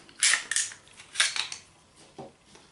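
A Glock 27 Gen4 pistol is taken apart on a table, giving a few sharp metallic clicks and clacks of parts sliding and snapping, close and irregular with short pauses between.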